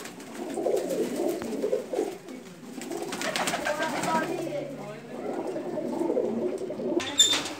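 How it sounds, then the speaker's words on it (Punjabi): Several pairs of pigeons in a rooftop loft coo in low, throaty, overlapping rolls that carry on almost continuously, with a brief brighter sound near the end. "ਕਬੂਤਰ ਚਾਰ ਪੰਜ ਜੋੜੇ ਲੱਗੇ ਜੀ"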